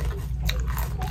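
A crunchy snack bitten into, giving a couple of short, crisp crunches close up over a steady low hum, with no talking.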